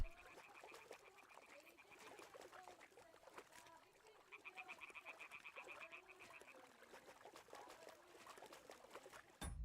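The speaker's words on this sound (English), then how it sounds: "Frogs." Frogs croak in a steady chorus in Kingdom Come Deliverance II, a dense overlapping chatter of rapid calls at a distance, faint and continuous with a trickling water texture beneath, then a soft thump at the very end.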